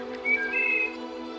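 A wood thrush sings one short, clear, fluting phrase over a soft sustained musical drone, brief and fairly close, with no voices.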